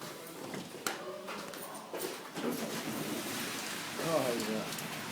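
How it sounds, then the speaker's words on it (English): Rain falls steadily outside near a gazebo as a broad, constant hiss, with a few sharp knocks and a voice briefly present. "Still raining."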